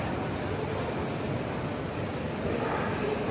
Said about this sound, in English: There's water running through it.